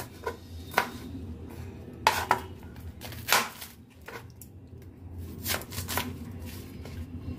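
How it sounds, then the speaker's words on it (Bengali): Knife cutting through banana flower (mocha) florets in a home kitchen, giving a series of short, crisp snaps and crunches at irregular intervals, close and moderately loud over a faint background hum. "আমি কয়েকটা ফুল কাটছি আর মোচার ভেতরের অংশটা কেটে আপনাদের দেখাচ্ছি।"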